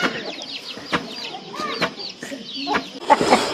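Chickens cluck in short, scattered calls in a rural mountain village, mixed with sharp thumps of rice pounding close by.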